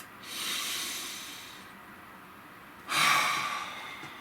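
Two slow, deep breaths, close and airy: a long hissing inhale or exhale that fades away, a short pause, then a second, stronger breath with no talking.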